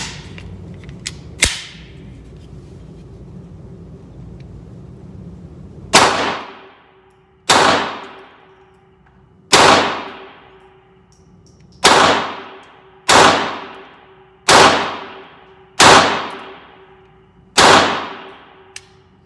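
Taurus TX22 .22 pistol fired at a range: one early crack, then eight sharp, loud shots at a steady spaced rhythm, each with a ringing decay, before the firing stops.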